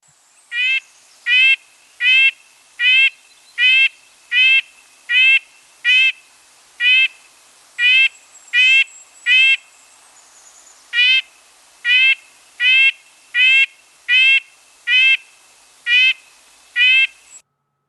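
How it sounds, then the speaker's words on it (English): A chestnut-backed chickadee calls in a steady series of about twenty short, high, buzzy notes, evenly spaced with one brief pause, loud and close against a quiet background with no talk. "chestnut-backed chickadee for sheer cuteness. Best descriptor I've ever heard is it's a tiny little school bus backing up."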